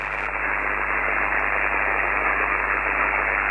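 Amateur radio band noise hisses on an open frequency, a constant, loud band of static that runs unbroken and steady with no voices.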